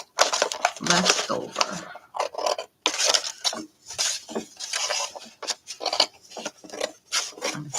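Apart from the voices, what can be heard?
cutting off a piece of paper for a journal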